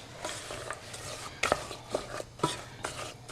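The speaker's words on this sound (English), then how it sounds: "You just dump that in and you just mix it all in to the melted chocolate and butterscotch" Cashews and peanuts being stirred into melted chocolate and butterscotch, heard as soft scraping with a few light clinks of a spoon against the bowl, quiet and irregular.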